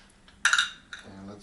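Small metal screws from a Samsung plasma TV being disassembled clink into a little container, a quick bright cluster of rattles followed by a second, softer clatter, with no talking.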